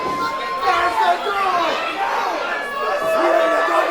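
A lucha libre wrestling crowd at a PrideStyle show makes continuous loud chatter and roaring for Fox Valentine, with shouts and rising cheers swelling throughout.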